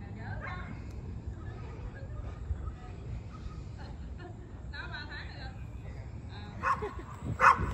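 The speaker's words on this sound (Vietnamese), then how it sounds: "Chó thì thấy mình cao nghe không, đứng sủa." A dog barks from a raised spot near a house during a neighbourhood garage sale day, a few sharp barks late in the clip over steady outdoor background noise and people talking.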